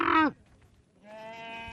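Sheep and goats bleat in Burao, a desert town in Somaliland: one loud, close, wavering bleat, a short quiet gap, then a second, steadier and fainter bleat that carries on to the end.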